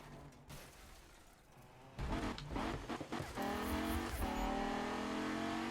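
A race car in the Need for Speed video game drives at speed, its engine droning steadily and climbing in pitch as it accelerates, loud and continuous with brief tire and mechanical noise.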